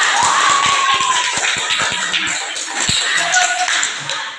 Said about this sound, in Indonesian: Oke, tepuk tangan untuk teman kita.